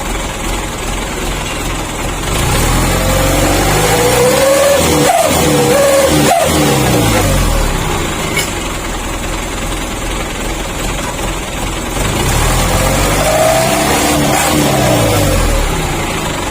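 A truck fitted with a wolf-whistle exhaust (knalpot serigala) runs with a loud steady engine drone while rising and falling whistle tones sound in separate bursts, close by and with no talking.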